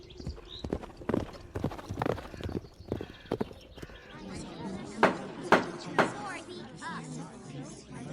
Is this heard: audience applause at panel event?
no